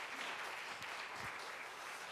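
A church congregation applauds young people during an afternoon worship service, a steady patter of many hands clapping at moderate distance, alone without speech.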